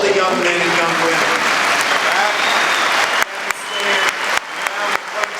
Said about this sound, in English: let's have a round of applause for all the young men and young women